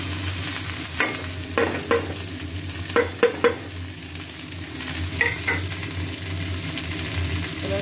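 Vegetables and onion fry in a pan, a steady close sizzle broken by several sharp scrapes and clinks of a spatula stirring against the pan, with no talking.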